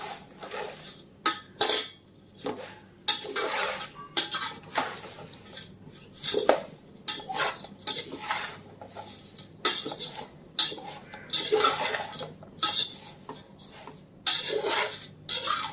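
Thin poha chivda stirred in a pan with fried grated coconut, a spoon repeatedly scraping and clinking against the metal in uneven bursts, with a soft sizzle between strokes.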